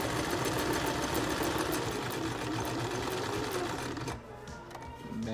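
A sewing machine backstitches a cloth mask, a steady loud whirring stitch that runs continuously, then drops off briefly near the end before resuming.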